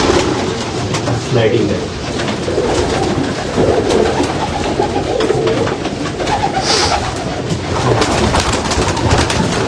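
Caged pigeons coo steadily and near, a dense overlapping murmur of soft throaty calls running throughout, with someone talking over them at a Karachi pigeon keeper's loft.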